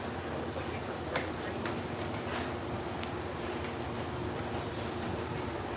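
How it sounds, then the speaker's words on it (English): Amtrak Capital Limited locomotive idling at Harpers Ferry station, West Virginia: a steady, loud rumble with hiss and faint ticking, with no horn. "Sounds like that locomotive's about to depart here."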